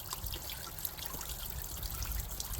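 Coolant trickling and draining out of a 1996 Jeep Cherokee cooling system, a steady close liquid dribble with low rumbling underneath, no talking.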